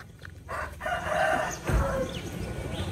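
Rooster crowing at close range in a drawn-out call amid rural background noise, with faint clucking from other fowl.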